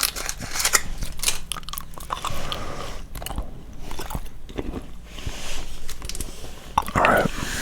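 Close, wet chewing of watermelon and apple flavoured gum, with irregular crunching and squishing bites throughout and some faint breathy sounds.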